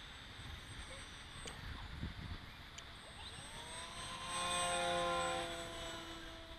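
An X-UAV Talon Mini RC plane with flaperons flies overhead, a faint, distant whine of its electric motor rising and falling in pitch, swelling louder near the end as it passes closer.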